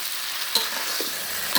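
Meat cooking in a pan on a village stove, a steady broadband sizzle with a couple of brief stirring scrapes, close and fairly loud, no talking.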